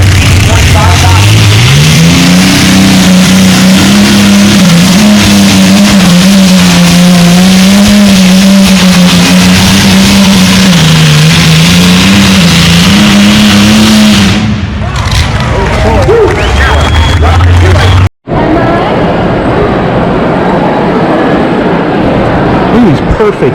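Pulling trucks roar at an outlaw truck and tractor pull at the Iowa State Fair, a loud, close engine drone rising in pitch and holding a wavering rev before cutting off, then crowd and motor noise continue after a brief dropout.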